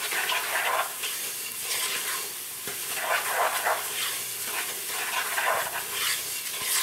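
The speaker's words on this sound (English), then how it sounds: "At this point you want to keep stirring, make sure it doesn't burn" Oil halva being stirred in a pan on the stove, rhythmic scraping strokes of a spoon through thick sizzling mixture, repeating roughly every second, close and fairly soft with a low hum beneath.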